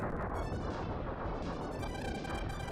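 A sustained barrage of booming explosions and crashing impacts from the video game Star Fox 2 rolls on without pause, thick and loud throughout.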